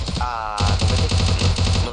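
Rapid bursts of automatic gunfire in a Free Fire match, loud and close, a quick string of evenly spaced shots following a short tonal game sound.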